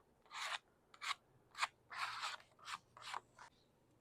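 White paint being scraped across an art journal page, seven or eight short rasping strokes in an uneven rhythm, close and fairly quiet, with no talking.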